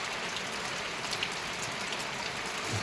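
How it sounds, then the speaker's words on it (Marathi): Soft, steady patter of light rain, a faint continuous hiss of fine drops falling on surfaces, with no voices. "असं झिमझिम पाऊस चालू आहे आमच्याकडे"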